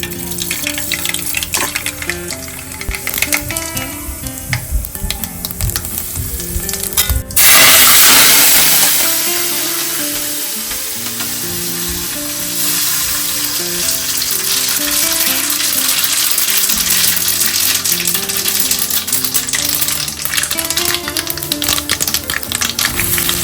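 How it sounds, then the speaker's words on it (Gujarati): Mustard seeds, cumin, sesame and curry leaves tempered in hot oil, close and loud: rapid crackling and popping, then a sudden burst of hissing sizzle that settles into a steady frying crackle. "રાઈ જીરું ને તલ ને લીમડો નાખે ને એમાં"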